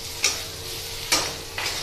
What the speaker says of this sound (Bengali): সব কিছুকে খুব ভালো করে মিশিয়ে নেব